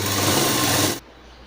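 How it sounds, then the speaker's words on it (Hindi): A sewing machine runs a short burst of top stitching on a designer top, whirring steadily and close for about a second before it stops abruptly. "अब हम यहाँ पे टॉप स्टिच लगाएंगे।"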